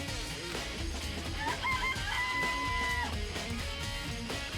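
Chickens cluck and a rooster crows inside a coop in the Danganronpa video game, with tonal calls standing out midway over a steady game soundtrack background.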